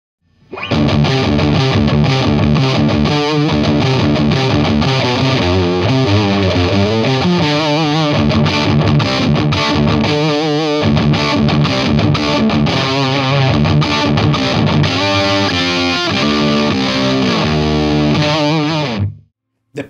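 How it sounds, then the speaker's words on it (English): Electric guitar through a Boss DS-1 distortion pedal plays continuous riffs and chords, gritty, loud and saturated throughout. "fast distortion using a boost pedal or a compressor set as a boost in front of your DS-1"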